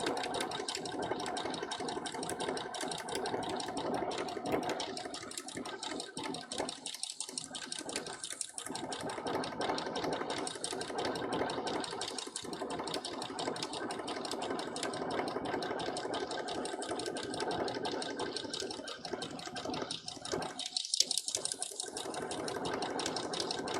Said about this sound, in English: Now there's more fabric for the machine to sew through, so it should have an easier time gripping it